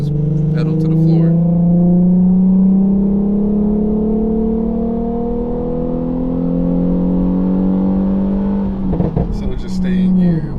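Tuned Infiniti Q50 engine held at full throttle in valet mode, a loud sustained drone with pitch slowly climbing then settling, heard close from inside the car, with brief voices at start and end.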